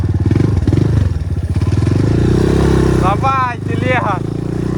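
A BSE 250 J3D motorcycle engine drones steadily while riding off-road, low and continuous, with rising and falling revs, while a voice talks over it.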